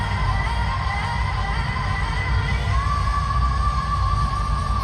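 Concert crowd shouting and cheering for a singer, a dense, steady roar of many voices from a large audience with whoops and yells, sustained throughout at moderate loudness.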